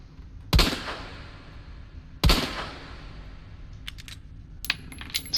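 A character in a third-person shooter video game fires two single gunshots, each a sharp, loud crack about two seconds apart, followed by a few faint clicks.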